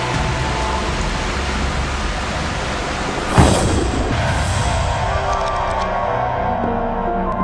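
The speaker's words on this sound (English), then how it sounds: "I kept waiting for the rain to stop." Dense, steady downpour hissing continuously, with a sudden sharp crack and rumble near the middle before the heavy rain carries on.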